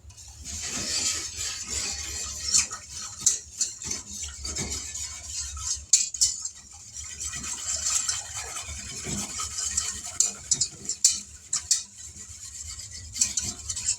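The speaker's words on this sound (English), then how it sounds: "Now let me grab a whisk. Give this a stir." A whisk stirring banana pudding mixture in a pot on the stove, soft scraping and light metallic clinks repeating unevenly against the pot, fairly quiet and close with no voices.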